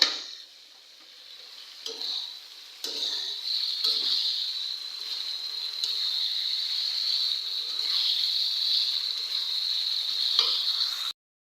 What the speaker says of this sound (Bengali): তো আমি এখানে মাংসগুলো দিয়ে দিচ্ছি, সুন্দর করে নাড়াচাড়া দিয়ে নেব।